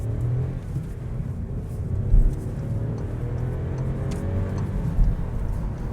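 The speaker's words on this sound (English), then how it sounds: "I'd expect this car to make a little bit more noise going up to motorway speeds" A 2024 Volkswagen T-Cross accelerates to motorway speed, heard from inside as a steady low engine and road rumble with a faint rising whir, fairly quiet and even throughout.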